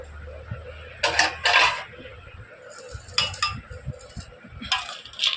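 Roasted semolina and dry fruits being mixed in a bowl, a spoon clinking and scraping against the bowl in a few short bursts over a low background hum, with no voices.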